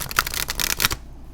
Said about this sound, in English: Let's give them a quick shuffle just so you get an idea of how they might shuffle for you.